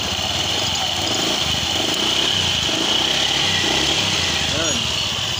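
A Honda Beat FI v2 scooter engine hums and revs nearby during a drag test, a steady buzzing drone with a slight rising whine near the end, while people talk over it.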